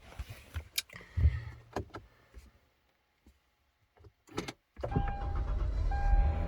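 A car being started, a BMW E60 528i or Genesis BH380: soft clicks and movements inside, then after a pause the engine turns over and settles into a steady idle, close by.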